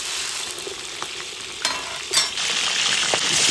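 Scored carp fries in hot oil in an iron wok until golden on both sides, with a dense, close sizzle. A short burst of spattering swells midway, and the frying stays loud after it.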